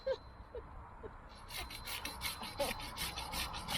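Hand sanding the bow of a narrowboat hull, a soft repeated rasping scrape in steady strokes that grows louder after the first second and stays faint overall.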